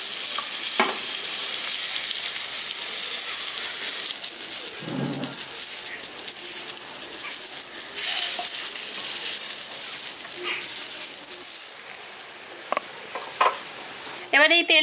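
Pointed gourd fries in hot oil in a village-style kitchen, with a continuous close sizzle and crackle that runs nearly throughout, then a few brief clattering knocks near the end.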